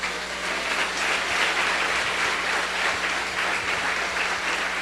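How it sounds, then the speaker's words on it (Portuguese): Church congregation at an evangelical service applauding for God, loud sustained clapping from a large crowd, a dense uniform roar of hands lasting several seconds with no voices on top. "Quem pode dar um aplauso a Deus?"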